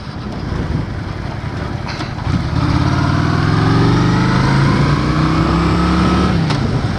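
A Shadow 750 motorcycle engine hums steadily while riding, its pitch rising as it accelerates, with wind rushing past throughout.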